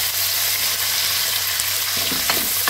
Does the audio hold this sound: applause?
no